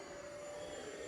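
A Horizon Hobby Viper 90mm RC jet with an electric ducted fan at full throttle on a driveway runway gives a steady, loud, high-pitched whine with a rushing roar, unbroken across the short clip.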